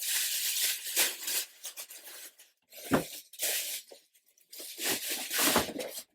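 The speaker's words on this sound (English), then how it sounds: "That goes back in the plastic bag." A plastic bag crinkles and rustles in several bursts, close up, with short quiet gaps between the handling noises.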